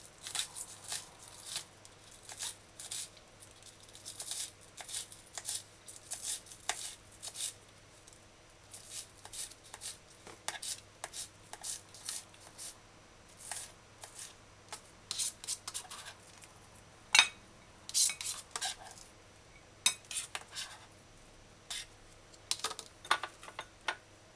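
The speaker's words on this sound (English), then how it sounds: "Now, dice scallion fine." A knife finely dicing scallion on a cutting board, quick irregular chops and taps spread throughout, fairly faint and close.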